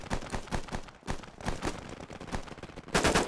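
Machine gun fire in the military shooter Operation: Harsh Doorstop, loud and close, rattling in rapid sustained bursts with short gaps and a heavier burst at the end.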